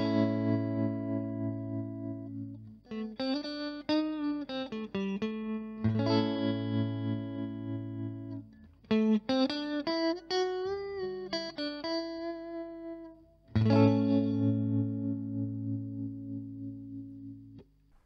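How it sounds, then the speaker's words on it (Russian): Electric guitar run through a Mooer Trelicopter optical tremolo pedal with all knobs at noon, playing sustained chords and short melodic phrases that swell and pulse, loud and clear with no talking. "начнем с оптической педальки, с трилекоптера, и посмотрим, собственно, как она звучит"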